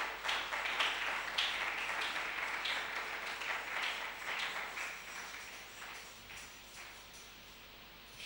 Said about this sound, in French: aplaudimos para o Senhor Jesus Cristo